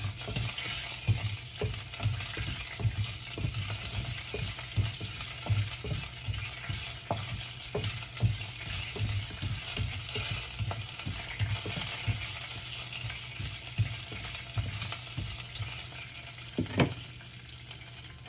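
Curry leaves fry in hot oil for a Tilapia fish kulambu, giving a steady loud sizzle with scattered crackles and spatula scrapes throughout, no voices.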